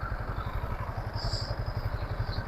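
A Yamaha XSR 155 motorcycle engine runs close by with a steady, low, throbbing pulse and slight rises in pitch, heard alone without talk.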